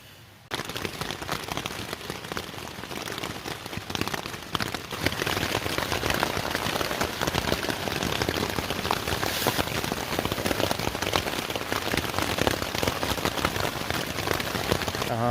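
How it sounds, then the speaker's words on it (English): Steady rain pattering on a tent at night on a Vermont stretch of the Appalachian Trail, a dense continuous drumming of drops that stays close and even throughout with no voices. "It did rain a lot last night."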